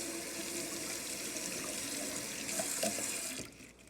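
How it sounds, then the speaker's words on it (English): Beet greens are rinsed under a running kitchen tap, a steady hiss of water splashing into a sink that grows a little louder near the end before the flow cuts off, with no voices. "So I'm just giving it a quick wash."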